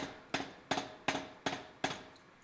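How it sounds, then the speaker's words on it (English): A power hammer forges the head of a Sutton Hoo-style axehammer, striking five loud, evenly spaced blows, each a sharp clang that rings and fades before the next. "It's made a lot easier by doing it under the power hammer."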